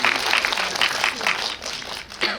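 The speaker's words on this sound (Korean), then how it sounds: "나의 집중력에 박수." An audience claps briefly, a loose round of applause with some individual claps standing out, dipping midway and picking up again at the end.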